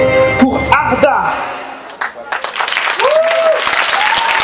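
Audience applause at a cosplay contest during a convention, a broad wash of clapping that swells after an opening stretch of music, with a voice briefly heard over it.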